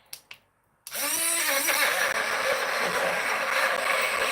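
A small blender purees apples with a little added water, starting after two brief clicks and then running loud and steady with a whirring motor and churning whine that dips once.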